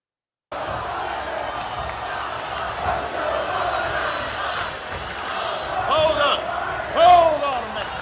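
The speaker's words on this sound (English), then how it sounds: "When have you ever seen Barack Obama not being able to control a crowd like this" A home-team crowd at a Barack Obama rally shouts and cheers loudly and continuously, with a swell of louder yelling near the end. Individual voices stand out above the roar of the crowd.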